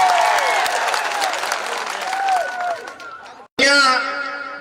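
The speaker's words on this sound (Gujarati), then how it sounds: "આપણે એમને જોરદાર તાળીઓના ગણગણાટથી એમનું સ્વાગત કરી" A large crowd at a public rally claps to welcome AAP MLA Chaitar Vasava, with loud applause that fades, cuts off, then surges back as cheering voices rise.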